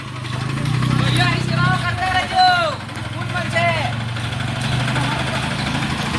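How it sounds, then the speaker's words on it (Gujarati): A tractor engine rumbles low and steady throughout as it drives toward a bus stand, with a person talking over it. "અત્યારે આ ટ્રેક્ટર જઈ રહ્યું છે બસ સ્ટેન્ડે"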